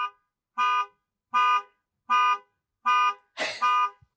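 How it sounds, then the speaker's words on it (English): A car alarm sounds outdoors near a parked van, five loud, evenly spaced electronic bursts of equal length, the last one slightly overlapped by a brief rushing noise. "Oops, somebody's car alarm went off."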